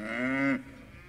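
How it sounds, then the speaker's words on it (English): A Lowline cow lets out one loud, close moo that holds for about half a second on a farm as the herd leaves, then drops to quiet background noise. "Very, very, very docile cattle. Very noisy, but very docile."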